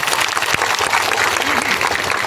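A crowd claps together at a protest sit-in at Tamnar, Chhattisgarh, producing a dense, loud, continuous patter of applause, with a faint voice briefly audible among it.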